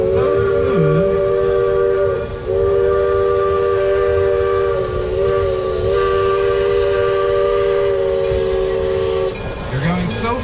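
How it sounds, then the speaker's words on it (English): A 1912 Shay-type geared steam locomotive pulls a tourist train through redwood forest, its steam whistle blowing long sustained tones over a constant rumble and clatter of the moving cars. "That is a 1912 Shay-type geared locomotive."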